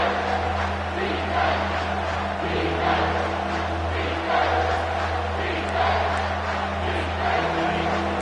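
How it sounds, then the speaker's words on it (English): A college football stadium crowd roaring on third down, a loud, sustained wash of cheering and shouting from thousands of fans that swells and surges throughout. "this crowd is bringing down the house."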